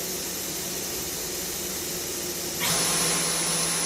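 Spindle of a Fanuc Robodrill a-T21iF vertical machining center running, a steady broadband whir that steps up to a higher, louder tone near the end as the speed increases.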